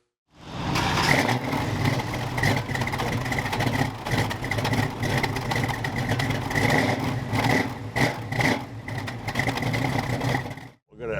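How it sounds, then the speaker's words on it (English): A 1973 Plymouth 'Cuda with a mildly built 360 cubic-inch V8, pink, out on a drive: a loud, steady engine drone with rising and falling revs, recorded from inside the car, ending in a brief drop-off. "let's take this one for a drive and hear that 360 motor run"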